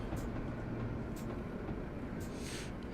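A Class 73 locomotive rolls steadily along the Chatham Main Line in a train simulator game, giving a constant low rumble of wheels on track with faint periodic clicks, heard alone.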